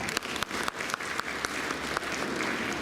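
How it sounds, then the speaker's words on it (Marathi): An audience at a Beti Bachao civic event in Devlali Pravara breaks into loud, sustained clapping, dense and continuous with a few sharper claps standing out, heard close with no voices over it. "त्यांच्यासाठी आपण जोरदार टाळ्या"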